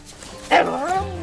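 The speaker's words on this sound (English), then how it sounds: "Cute dog." Boomer, a mutt that is mostly blue heeler, gives a single close bark with a whimpering rise in Far Cry 5, and speech overlaps it.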